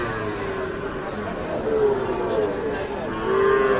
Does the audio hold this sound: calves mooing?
yes